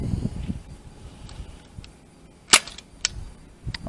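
Outdoors in light wind, an Adventure Force Hypershot toy blaster fires with one sharp, snappy crack, followed by a couple of fainter ticks and handling noises.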